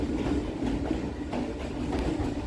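Kolkata local train running from Barrackpore to BBD Bag, heard from inside as a steady loud rumble with faint rhythmic rail clatter throughout.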